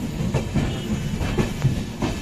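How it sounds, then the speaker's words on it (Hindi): A passenger train runs into Moradabad station, its wheels giving a close, rhythmic clickety-clack over rail joints with a low rumble and light hiss, steady and loud with no voices. "राइट टाइम गाड़ी चल रही है इस टाइम"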